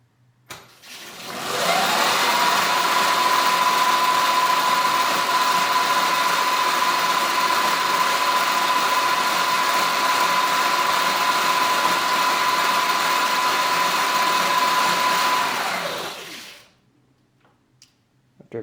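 An electric motor spins a wheel lifted off the ground during motor calibration in a tuner app, a steady loud whir with a constant high tone that starts up, runs evenly for about fifteen seconds, then winds down to quiet.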